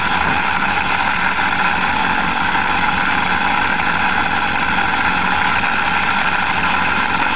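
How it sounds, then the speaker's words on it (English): A small permanent magnet motor whirs at high speed, a steady dense hum that holds constant and loud with no talk over it. "once that magnet starts spinning, the assembly accelerates"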